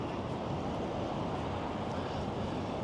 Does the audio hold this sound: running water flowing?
yes